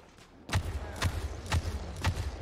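Weapon fire in the co-op zombie shooter World War Z Aftermath: four sharp, evenly spaced shots about half a second apart, each with a heavy low thump, fairly close and with no voices.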